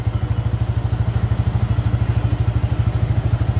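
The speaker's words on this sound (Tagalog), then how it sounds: "mabilis yung pagka-rumble idle nya" A Yamaha Sniper 150 v2 motorcycle engine idles close by with a fast rumble-idle tune from an aftermarket Datatec ECU, giving a loud, rapid, evenly pulsing low throb that runs steadily throughout, alone with no talk.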